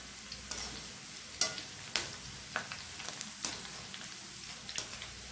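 Kara boondi frying in hot oil as it is stirred and turned, a soft steady sizzle broken by sharp scraping taps of the ladle at irregular intervals, close and fairly quiet with no talking.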